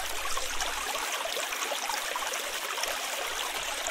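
Steady rushing water in the Minetest video game, a continuous even wash of flow and trickle that fills the whole stretch without any speech.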